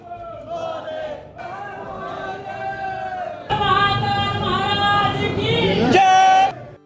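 Dense crowd of temple visitors at Mahakal temple in Ujjain, a loud babble of many voices with chanting and shouting that swells into a fuller, louder roar partway through.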